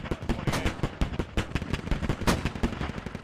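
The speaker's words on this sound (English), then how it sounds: "These are Mortars are way close." Mortar shells bursting close by in the video game Squad, a dense rapid run of sharp booming impacts and cracks filling the whole stretch with no pause, loud and near.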